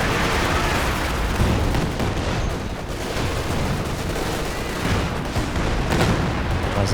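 Dense battle noise from a Company of Heroes 2 3v3 match: continuous gunfire crackle layered with heavy explosion thumps, including a grenade blast, loud and sustained without a break.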